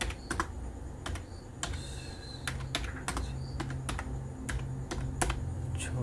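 Steady clatter of keystrokes on a computer keyboard as a ChatGPT prompt is typed, sharp clicks in uneven bursts over a low room hum, close and alone without speech.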